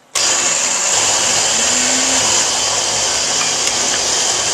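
A blender chops fresh tomatoes and vegetables for a raw vegetable spread, starting abruptly into a loud, steady motor whir and grinding roar that runs throughout with no talking.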